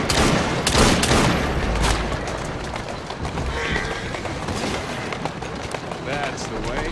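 Gunfire in the Assassin's Creed Syndicate video game, a dense cluster of loud shots in the first couple of seconds, then scattered fainter bursts over a steady game soundscape, with someone talking throughout.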